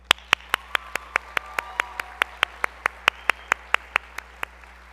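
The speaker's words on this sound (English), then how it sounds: "Please take a moment to honor them with your applause." Applause at the 2021 Alliance Academy graduation ceremony honoring the graduates' supporters comes through as about twenty crisp, evenly spaced single claps in a steady beat, close and distinct over a quiet hall.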